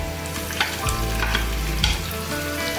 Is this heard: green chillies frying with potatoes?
yes